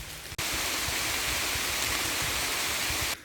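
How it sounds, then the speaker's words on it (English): Heavy rain pours down in a rainforest, a dense, loud, even hiss of falling water that begins abruptly and holds steady for a few seconds before cutting off. "It didn't stop raining,"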